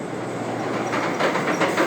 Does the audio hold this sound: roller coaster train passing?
yes